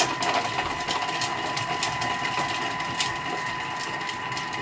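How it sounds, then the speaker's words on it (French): A kitchen robot blending garlic cloves at speed 10, a fast steady whirring hum with rapid chopping clatter running the full length, close and fairly loud, with no talking. "je vais mixer l'ail 5 secondes, vitesse 10"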